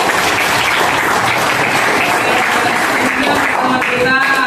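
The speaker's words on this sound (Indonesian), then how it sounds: "sekali lagi tepuk tangan untuk diri kita semua" Loud, dense applause from a crowd of students or participants closing a geography lesson session, continuous clapping throughout with a voice briefly audible near the end.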